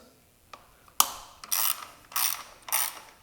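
Ratchet wrench loosening bolts on a Harley Davidson Softail during an air cleaner install: a few sharp clicks, then three bursts of rapid ratcheting, close and clear with no talk.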